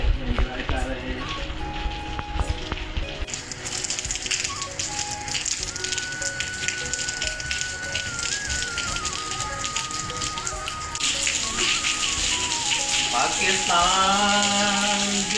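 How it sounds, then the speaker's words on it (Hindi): Steady rain falls in a village in Punjab, Pakistan, a constant dense hiss throughout, with tonal music and a few background voices layered over it. "सही बारिश हो रही है"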